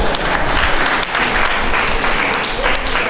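A lecture audience claps, a loud, close, steady burst of many hands filling the room for a few seconds.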